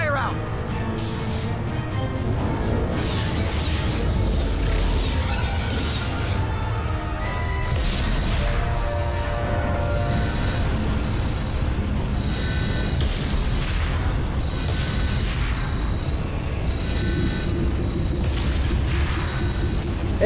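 Loud, continuous booms, crashes and rumbling fire fill a ship under attack in the video game Mass Effect 2. Game characters shout over the constant din.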